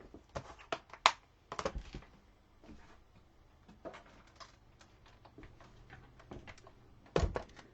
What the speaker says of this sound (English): let me just get my cut emboss machine